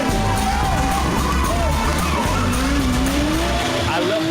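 Drifting cars at a loud motorsport show fill the air with roaring engines and long tire squeals that rise and fall, with crowd noise and a voice talking underneath.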